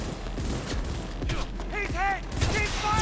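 Rapid gunfire in a firefight in the video game Cyberpunk 2077, loud and close, with game voices talking over the shooting.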